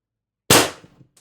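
A single sharp crack from a pistol built as an X-68 Punisher with a Huben power stock and ADN X18 drum magazine, loud and close with a quick decaying ring, then a faint click.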